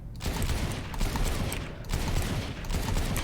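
Sheriff pistol from the game Valorant fired in quick double-tap pairs, loud sharp cracks with mechanical action sounds, repeated several times over a few seconds.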